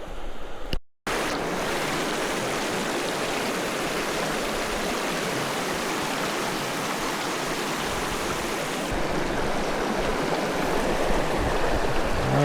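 Fast river rapids in Labrador rush steadily and loud, a dense continuous roar of churning whitewater with no voices, broken only by a brief dropout near the start.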